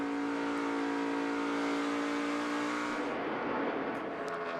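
NASCAR Cup Series stock cars racing at the 2017 Folds of Honor QuikTrip 500 in Atlanta, a loud sustained engine roar with a car passing and pitch shifting as it goes by.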